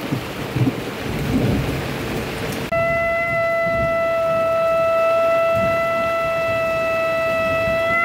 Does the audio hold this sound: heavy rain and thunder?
yes